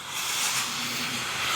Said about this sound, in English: Then we set the steam going again